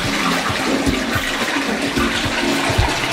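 A toilet flushing, loud and close, with a steady rushing of water that fills the whole stretch and nothing else heard over it.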